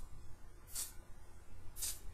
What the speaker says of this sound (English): Now, don't spray it like this.